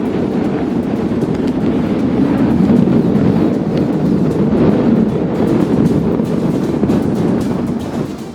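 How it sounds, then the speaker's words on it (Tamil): Strong wind from Cyclone Fengal sweeps through Chennai, a loud, steady roar of gusting air and buffeting against the microphone that holds for several seconds, with no voices. "சென்னையில் பலத்த காற்று வீசி வருகிறது"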